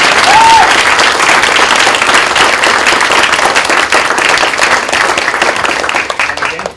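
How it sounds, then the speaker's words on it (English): An audience at a law school teaching award ceremony gives a loud, sustained round of applause for the students. The clapping is dense and close, holding steady for several seconds before tapering off slightly at the end. "If we could have one more round of applause for the students who really put in a lot of time."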